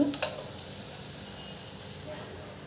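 Balls of Bombay rava gulab jamun fry in hot oil until brown, giving a faint, steady sizzle throughout with a brief clatter at the start.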